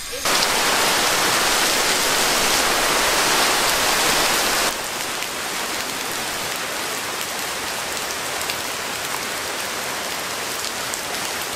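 Steady heavy rain pours down in Bali, a dense hiss that drops slightly in intensity partway through and continues evenly to the end.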